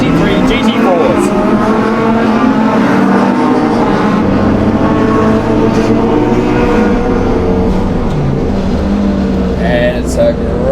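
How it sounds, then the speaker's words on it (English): A field of GT3 and GT4 race cars roars off the start of a GTRNZ race, engines droning loud and continuous with shifting pitch as they accelerate, while a commentator talks over the noise. "as we see the starter ready to go, and we're off for the final race of the GTRNZ GT3 GT4s."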